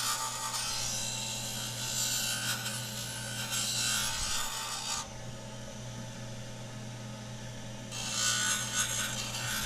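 A small burr spinning in a dental lathe's quick chuck trims a dental retainer, giving a continuous high whine with grinding bursts that swell and fade as the material is pressed to the burr, close up and without speech.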